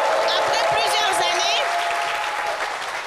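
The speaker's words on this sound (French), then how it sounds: "on va se lever pour applaudir pour Petit Déni" A studio audience applauds as they stand for Petit Déni, with steady clapping under a talking voice throughout.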